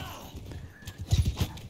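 Horse hoofbeats from the video game Mount and Blade 2 Bannerlord, a short run of muffled thuds that builds to a louder cluster near the end, with battle noise around it.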